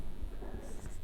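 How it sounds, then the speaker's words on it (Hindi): Handwriting during a Class 10 maths lesson on circles: a quiet run of short scratchy strokes, close and faint, with brief pauses between marks. "तो इसको लिखेंगे यहाँ पे"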